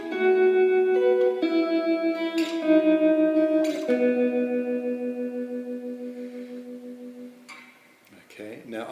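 Electric guitar phrase, ringing sustained notes sliding between positions with an open E, played alone with echoey effects and a brief pluck at the end.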